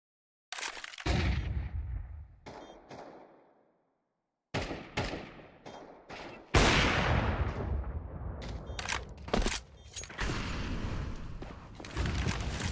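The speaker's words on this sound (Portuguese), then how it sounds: "Olha o tiro." Gunfire in the Counter-Strike video game: loud, abrupt shots and rapid bursts come in clusters, separated by short silent gaps, with the rattling fire growing denser toward the end.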